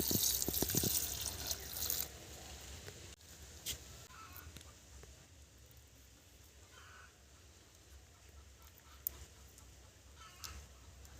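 Tap water runs loudly for the first two seconds while prawns are washed, then gives way to quiet drips, light splashes and scattered handling noises, with faint bird calls in the background.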